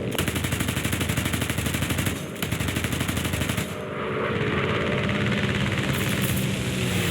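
Aircraft machine guns fire during a head-on pass in War Thunder, with a P-47D in the fight: loud, rapid continuous bursts with a brief break, layered over a droning engine.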